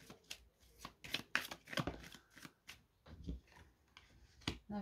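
Tarot cards are shuffled and drawn close by, a quick run of crisp riffling slaps and soft card flicks in an irregular rhythm, with no talking.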